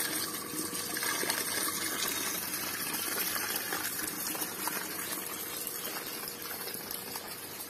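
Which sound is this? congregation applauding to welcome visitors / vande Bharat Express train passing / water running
water running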